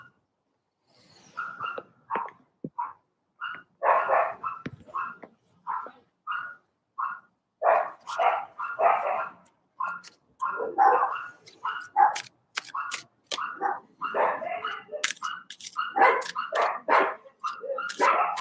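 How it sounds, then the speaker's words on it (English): Dogs barking repeatedly in irregular bursts, close and loud, growing busier toward the end. "Sorry about the dogs."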